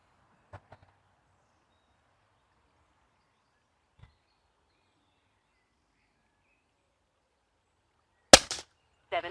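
An FTP 900 air rifle firing pellets: mostly quiet with a few faint clicks, then one sharp, loud shot near the end followed by a brief rattle.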